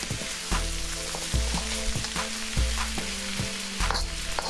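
A vegetable stir fry sizzles loudly in an oiled pan while a utensil stirs and scrapes through it in several distinct strokes, close up and without voices.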